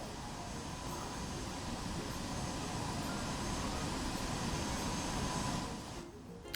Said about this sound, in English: Wherever that plane is, it's really loud.